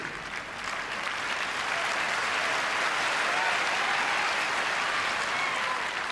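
Wimbledon crowd applauding Andre Agassi at the 1992 quarter-final, sustained dense clapping from a large audience that swells quickly and holds steady, loud and continuous.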